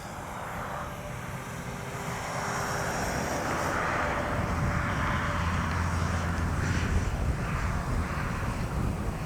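Small electric H-King Flybeam 2 RC plane from Hobby King doing a touch and go on grass at night, motor whine building and sustained at moderate distance, with a steady airflow roar beneath.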